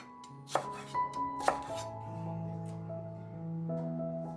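Garlic and spring onions chopped on a board with a few crisp knife strikes near the start, followed by sustained tonal background sound; quiet and close, no speech.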